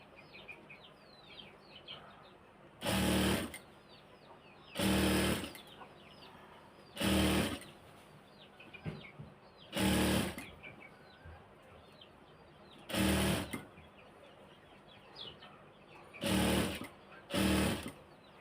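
A sewing machine stitches pieces of a dress together in seven short, loud bursts separated by pauses. Faint bird chirps sound in the quiet background between bursts.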